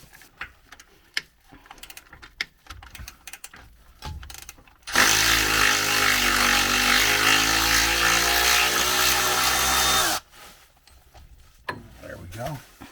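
An impact-style power tool whirs loudly for about five seconds while removing the factory mount bolts on a 2017-19 Ford Super Duty truck, framed by clanks and handling noises before and after.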